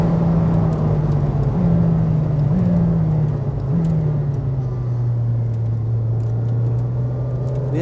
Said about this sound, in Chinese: 我现在要冲过一段 一个90度弯角，